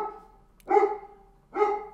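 A dog barks twice, about a second apart, each bark loud, close and clear against a quiet background.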